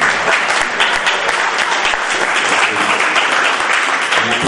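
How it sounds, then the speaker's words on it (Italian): An audience at an international art award ceremony in Sanremo claps in steady, dense, loud applause that carries on without a break. "un bel applauso"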